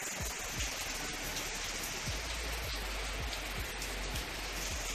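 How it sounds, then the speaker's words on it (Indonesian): Rain falls steadily as a dense, even hiss, with faint drops and soft low thuds repeating across the clip and no voices. "malah hujan guys"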